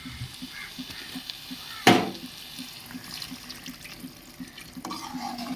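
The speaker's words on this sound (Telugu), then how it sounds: "ఇప్పుడు కొంచెం వాటర్ అయితే వేసేస్తున్నానండి" Water is poured into a cooking pan holding a dried potato curry, a sudden splashing gush followed by quieter trickling and faint kitchen clatter.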